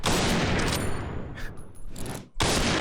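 Rapid bursts of gunfire in the Point Blank shooter game fill most of the stretch, loud and dense, dropping off briefly before resuming at full strength.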